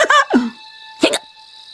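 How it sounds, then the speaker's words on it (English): A cartoon hiccup from a children's animated show about hiccup hunters, heard as a couple of short voiced bursts close up, followed by a quieter pair of hiccup-like gulps after a pause. "do you still have the hiccups?"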